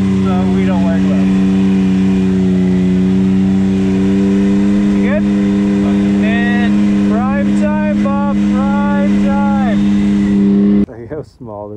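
The engine of a Can-Am Maverick X3 side-by-side drones steadily at close range, pitch climbing and falling in repeated revs before cutting out near the end.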